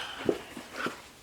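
A dog gives a few short, soft whimpering yips, faint and close, with brief pauses between them.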